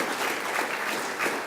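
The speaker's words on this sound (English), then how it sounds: "Give a round of applause for Ian Atwell." Audience applause at a school district strategic planning kickoff, steady clapping from a crowd filling the short moment without pause.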